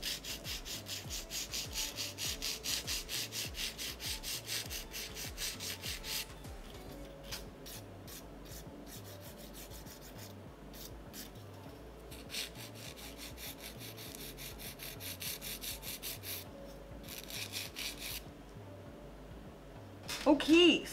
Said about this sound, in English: And then I'm gonna file over them and try to blend that tip.